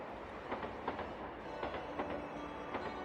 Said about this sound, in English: he boarded the train heading in the opposite direction